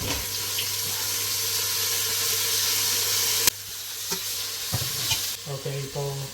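Tomatoes hit a hot pan for Arabian chicken kabsa biryani, giving a loud, steady sizzle that drops abruptly partway through, followed by the clinks and scrapes of a utensil stirring close by.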